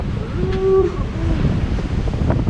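Wind blowing at sea aboard a sailing boat in strong gusts over 30 knots, a steady broadband roar of wind and water with microphone buffeting, no voices.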